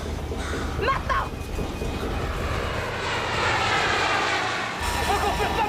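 Steady, loud roar of an aircraft engine on a plane in flight in a thriller, a constant droning rumble with tense voices talking over it.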